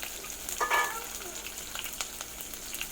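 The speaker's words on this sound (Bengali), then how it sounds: "এগুলোকে ব্রাউন কালার করে ভেজে নেব।" Chopped onions frying in hot oil for chicken biryani, a steady soft sizzle with a few brief crackles and stirring clatters near the start, no talk.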